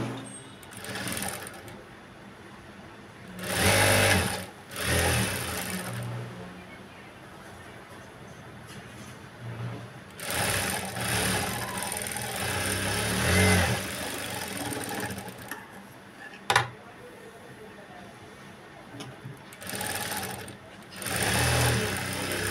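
A sewing machine stitches a Punjabi dress top, running in several separate loud bursts with quieter gaps between them and one sharp click.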